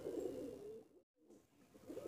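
Breeding pigeons coo in a low, soft murmur for nearly a second, fall silent briefly, then resume with quieter rolling coos close by.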